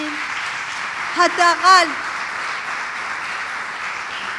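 A church congregation claps for God during a Persian-language sermon, a steady wash of applause running through the whole stretch while the pastor briefly speaks over it.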